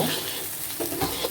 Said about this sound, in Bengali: এখন আমরা পোলাও চালটা হালকা করে ভেজে নিব।